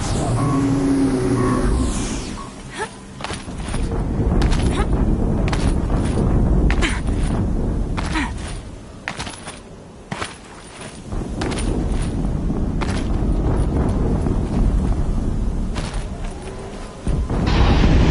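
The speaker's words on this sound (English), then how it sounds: "Another explosion." Explosions in the video game Horizon Zero Dawn: continuous loud rumbling booms and crashes with dense battle noise, sustained throughout with brief dips.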